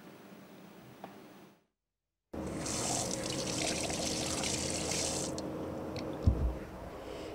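Water runs steadily from a memorial spring fountain built in front of a martyr's former home, a continuous close trickle and splash that starts abruptly after a short silence, with a brief low thump near the end.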